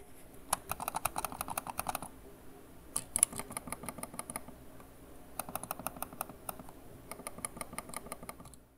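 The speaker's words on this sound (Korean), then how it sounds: "저소음 스위치가 적용되어 있으니 소리도 안 들어볼 수 없겠죠?" Bursts of soft, muted clicks from the low-noise switches of an ABKO WEM500 PRO vertical mouse in quick rapid clusters, close up, separated by short pauses.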